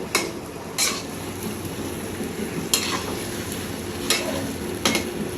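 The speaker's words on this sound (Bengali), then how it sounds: "আস্তে আস্তে করে এই ডালটা ভাজতে থাকবো যাতে গন্ধটা না আসে" Fish dal (fish roe) frying slowly in a pan for a fish-fat recipe, a steady sizzle broken by sharp periodic scrapes and clinks of a spatula, close and without talk.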